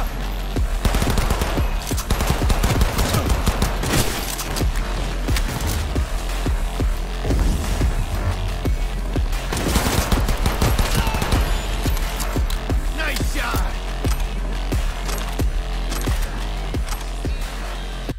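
A Cyberpunk 2077 firefight with loud, sustained gunfire: dense bursts and fusillades crowd the whole stretch, with mechanical clanks mixed in and a constant low rumble beneath.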